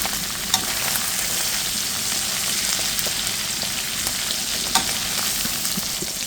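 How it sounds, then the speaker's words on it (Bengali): Small hilsa fish fry in hot oil in a pan, a loud, continuous close sizzle with a couple of sharp clinks of a utensil against the pan. "মাছটা ভাজা হয়ে গেছে"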